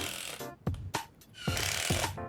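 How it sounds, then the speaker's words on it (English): Screws being driven into a wooden board against a bedroom wall, a few short whirring bursts from a power driver that start and stop, close by and moderately loud with brief pauses between. "First thing I'm gonna do is put some screws into the wood."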